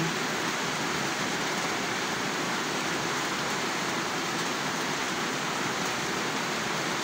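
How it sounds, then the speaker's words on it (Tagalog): Heavy rain falls in a steady, dense wash of broadband noise, constant and fairly loud throughout with no pauses or voices. "Yan po ang tamang ulan."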